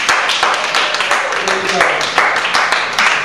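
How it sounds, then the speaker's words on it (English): An audience gives a round of applause, a dense, loud patter of many hands clapping at once, with voices mixed in over the clapping. "everybody give a big round of applause for Lily"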